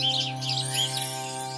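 A baby bird chirps in a few quick, thin tweets over a steady tonal background hum.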